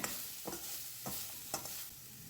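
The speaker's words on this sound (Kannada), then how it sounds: "ಮಿಕ್ಸ್ ಮಾಡಿದ್ದಾದಮೇಲೆ ಹಸಿ ಸ್ಮೆಲ್ ಹೋಗೋವರೆಗೂ ನಾವು ಅದನ್ನು ಚೆನ್ನಾಗಿ ಫ್ರೈ ಮಾಡ್ಕೋಬೇಕಾಗತ್ತೆ" Coconut masala with coriander fries in a pan with a soft, continuous sizzle, punctuated by three or four faint scraping stirs at a steady pace, close but quiet.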